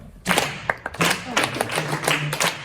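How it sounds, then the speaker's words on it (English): Several people clap together, repeating a short syncopated rhythm pattern in a rhythm-reading exercise; the crisp, close claps come in uneven groups, and a voice is heard between them. "So everyone clap that."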